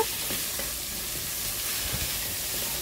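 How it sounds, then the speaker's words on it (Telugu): Bottle gourd pieces with salt and turmeric sizzle steadily in a hot pan while being stirred, a close, continuous frying hiss with faint scraping movements, no talk. "ఈ 2 ఒకసారి మిక్స్ చేసుకుని వేసిన తర్వాత"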